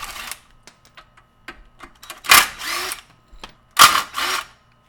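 Short bursts from an impact-style power tool work loose the sway bar end link and lower control arm bolts on an MK4 Golf, with two strong whirring blasts near the end and scattered clicks and taps of tools between them.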